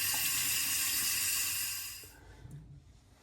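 Tap water running steadily into a sink for rinsing after a wet shave in a cruise ship spa, a close hissing flow that cuts off near the end, leaving faint handling sounds.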